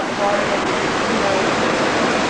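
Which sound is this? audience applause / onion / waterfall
waterfall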